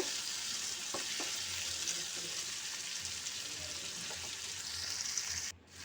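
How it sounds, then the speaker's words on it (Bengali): Tomatoes and onions fry in a pan with salt under a steady, bright sizzle, with occasional stirring scrapes near the start, until the sound cuts off abruptly near the end. "দিয়ে আবারও খুব নেড়ে চেড়ে ভালো করে ভেজে নেব।"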